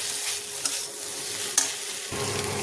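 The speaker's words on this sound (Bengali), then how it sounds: "ভালোভাবে মিলিয়ে নেবো পোস্তের সাথে" Bitter gourd coated in poppy seed paste, cooked without water, stirred in a pan with a continuous close sizzle, a couple of brief spatula scrapes, and a denser frying hiss toward the end.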